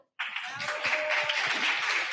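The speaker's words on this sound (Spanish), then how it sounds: "Por favor, un aplauso." Applause from an audience at a tech talk on AI and large language models, starting abruptly after a brief silence and continuing as a steady patter of many hands, moderately close.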